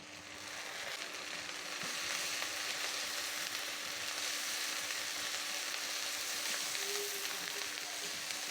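Chopped onion and onion paste fry in a pan for a Bengali fish curry, giving a steady, dense sizzle that swells at the start and then holds evenly, with no voices.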